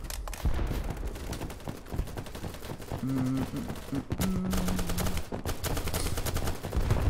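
Rapid gunfire crackles almost continuously in a BattleBit Remastered match at a construction site, with bursts from several weapons blending into a dense, loud volley and brief breaks between.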